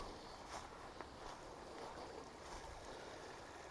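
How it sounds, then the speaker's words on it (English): Steady, gentle trickle of moving water close by, a continuous soft wash with faint splashes and no voices. "hear water moving though, that's a good sign"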